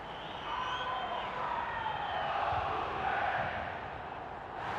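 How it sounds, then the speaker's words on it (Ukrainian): A distant stadium crowd in the video game FIFA 08 keeps up a continuous, droning chant during a Ukraine versus England match, with a swelling roar that holds steady throughout. "Ну, ви чуєте цей вигук?"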